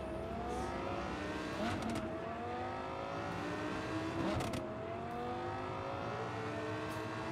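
A car in Cyberpunk 2077 drives steadily with a continuous engine whir and revving, its pitch rising and falling, plus a few brief clatters from the road.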